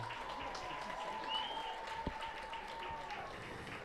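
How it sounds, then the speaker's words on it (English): An audience at a high school football event applauds a senior, a faint, distant patter of clapping with a murmur of voices underneath. "Ladies and gentlemen, give a round of applause for senior Connor Sullivan."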